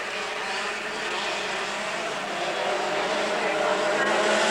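Dirt go-karts race at Laang in 1996, pulling away on a restart. The pack's engines make a broad, continuous drone that gradually grows louder.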